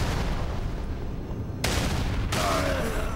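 Repeated brute shot grenade-launcher fire and explosions in Halo 3, a dense, loud barrage of booms and blasts running throughout with abrupt bursts midway.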